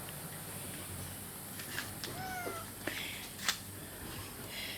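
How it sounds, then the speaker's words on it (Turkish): A cat in a garden in Antalya gives a few short, fairly faint meows against a quiet outdoor background, with no talking. "Seni eve alayım mı? Benim kedim olur musun?"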